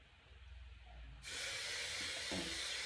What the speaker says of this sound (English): I also take a little bit of Got2b spray